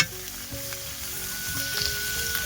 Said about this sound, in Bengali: মশলা থেকে তেল ছেড়ে চলে এসছে, আমার মশলাটা কষানো হয়ে গেছে।